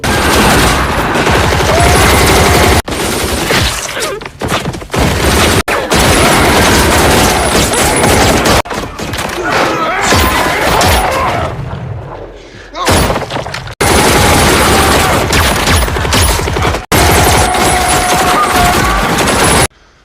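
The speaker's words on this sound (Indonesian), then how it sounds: "Pasukan elit khusus datang dan menembaki pasukan Kurt." Elite special forces open fire in a film action scene, with very loud, dense bursts of automatic gunfire, booms and thuds that continue almost unbroken and pause only briefly, with voices mixed in.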